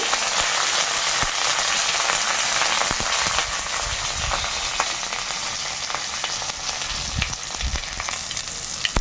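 Chopped green chili and ginger fry in a pan for semolina upma, producing a loud, dense, continuous sizzle with occasional scraping stir sounds and no voices.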